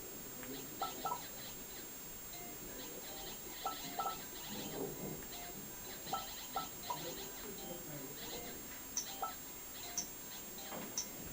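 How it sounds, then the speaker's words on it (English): Regular short ticks from a Nintendo DS game countdown timer repeat steadily over a busy, faint background of game sounds and light chatter, running down. "that ticking is ticking down"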